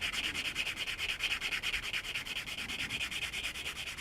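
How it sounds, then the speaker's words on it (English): Sanding a plastic part from a Tamiya 1/12 scale Yamaha YZR M1 '09 model kit: a steady, rhythmic scratchy rubbing, close and continuous, with quick regular back-and-forth strokes and no talking. "sand over that part for you, like we've done before"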